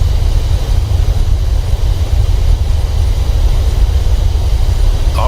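A Boeing 737-800 deploys its thrust reversers on landing in a flight simulator game, with a loud, steady low engine roar and broadband rushing noise that holds constant throughout, without talk.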